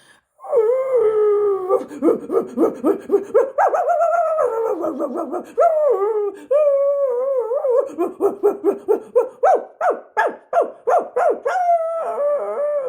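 A person's voice imitates an anxious dog, with long wavering howls breaking into rapid rhythmic bursts of barking, loud and close, with no other sound.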